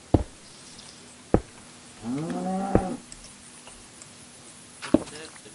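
A cow moos once in a video game, a short mid-volume low call among several sharp clicks and knocks spread across the clip.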